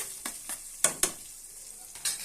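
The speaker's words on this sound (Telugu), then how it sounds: "తాలింపు వేసాను కదా తాలింపు వేగుతుంది" Soft frying sizzle of onions, green chillies and cumin tempering in oil in a pan, with a few sharp scrapes of stirring, close and fairly quiet.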